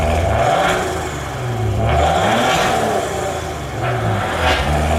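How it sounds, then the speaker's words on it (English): A 2019 Maserati Ghibli, the base model, revving in sport mode: the engine climbs and falls in repeated swells, loud and close with no talk over it. "Now we're going to go for the start of this base Ghibli and the rev up in sport mode."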